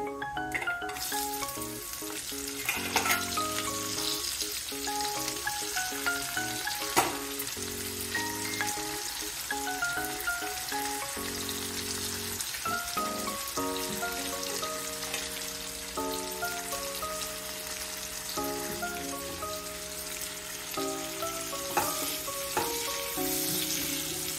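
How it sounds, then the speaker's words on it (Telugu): Onions fry in a pan with prawns, a continuous close sizzle with occasional stirring scrapes, heard under steady background music. "ఉల్లిపాయలు వేగుతున్నాయండి"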